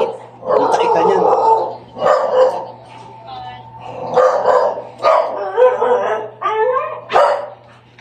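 A dog barks repeatedly in short bursts from downstairs, loud and close, with a low steady hum underneath.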